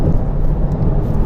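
A Volkswagen Golf GTI TCR accelerates past other cars with a loud, dense engine roar and rushing road noise, heard close and without talk.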